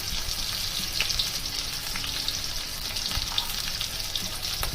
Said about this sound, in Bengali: তেলটা খুব বেশি রকম তেতে গেছে, এবার আমি গরম মশলাগুলো দিয়ে দিলাম আর কাঁচা লঙ্কাটা দিচ্ছি।